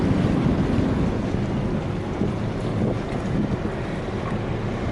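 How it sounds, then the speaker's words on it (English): A boat swinging its stern out from a mooring into a waterway, heard as a continuous low engine rumble and water wash under steady wind buffeting the microphone. "The skipper then rotates the stern out into the waterway"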